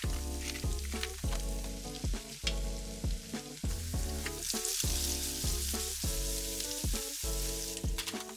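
Onions stir-fried in a pan while packing a bento, a steady loud sizzle broken by regular scraping strokes of a spatula about every half second, with no voices.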